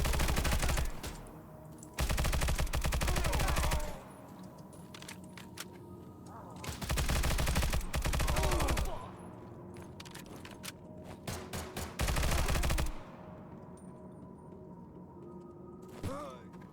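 Bursts of automatic fire from the Season Pass gun in Stalcraft, a few seconds each at about 0, 2, 7 and 12 seconds, loud and close with quieter game ambience and clatter between them.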